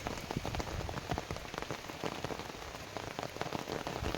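Rain pattering steadily on surfaces around a rooftop garden, a soft, dense patter of drops at moderate distance with no voices.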